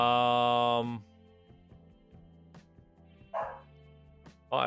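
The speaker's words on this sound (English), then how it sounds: "I heard a dog." A dog barks during a playthrough of The Stanley Parable: Ultra Deluxe, a few short separate yaps spaced apart after a loud burst of music, fairly faint against a quiet tonal background.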